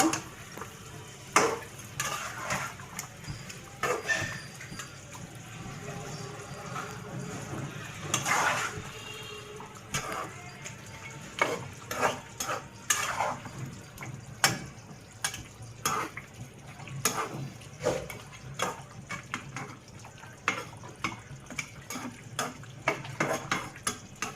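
A spoon stirs chicken masala in a metal pot on the stove, with repeated scraping and clinking against the pan and a soft sizzle underneath, close and steady throughout.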